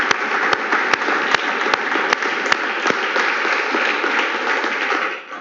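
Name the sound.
congregation applauding in church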